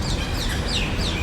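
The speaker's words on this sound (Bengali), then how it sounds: "কি সুন্দর করে পাখি ডাকছে।" Small birds chirp and tweet in quick, overlapping calls at an outdoor Dubai boulevard lined with restaurants, steady and moderately close over a broad background hiss.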